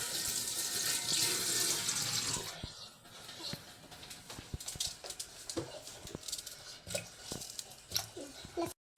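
A kitchen tap runs loudly for a couple of seconds, then stops. Scattered clinks, splashes and wet handling sounds of washing follow, and a voice is heard faintly.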